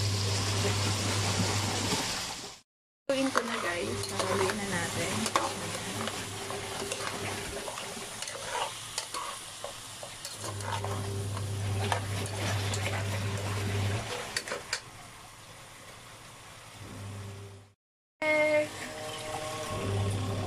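Meat simmers in soy sauce in a pan, a soft, continuous sizzling and bubbling close by, with stirring and brief scraping sounds and two short breaks in the sound.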